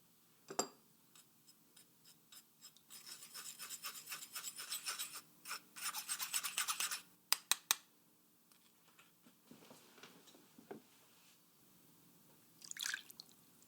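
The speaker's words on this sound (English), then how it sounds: "Just run your thumb through the tomatoes over a strainer to strip the seeds," A thumb strips seeds from fresh tomatoes over a strainer, making a run of wet rasping and squelching strokes with drips, some quick pulses and others longer, close and fairly quiet with no talking.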